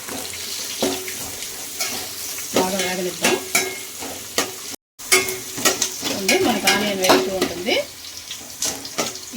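Onions and cashews fry and sizzle in a hot pan while a spoon scrapes and stirs them in repeated bursts, close and fairly loud, broken by a brief silent gap midway.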